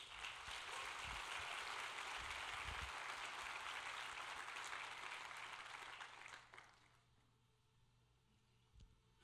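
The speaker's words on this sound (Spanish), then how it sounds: "Démosle un aplauso al Señor." A church congregation claps together at a Spanish-language service, a strong even burst of applause lasting about six seconds before it drops away to a quiet hum with a few stray sounds.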